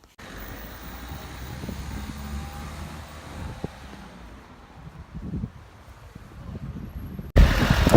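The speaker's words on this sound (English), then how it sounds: "This wind is so crazy today." Strong wind blowing along a street in Malta: a continuous low rumble and buffeting against the microphone, gusting harder near the end.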